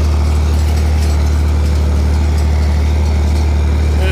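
A tractor engine works hard close by as it climbs and turns up a hill while seeding and back dragging, a loud, steady low drone without letup.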